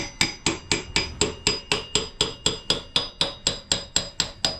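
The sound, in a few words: hammer tapping wheel rim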